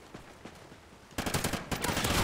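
Light machine gun fire in a video game: quieter scattered shots at first, then loud rapid sustained bursts in the final second or so, one brief pause partway through.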